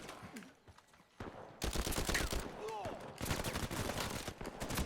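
Heavy gun fire in the video game Uncharted 4, loud dense bursts of automatic shots filling most of the clip, with quieter game sounds at the start.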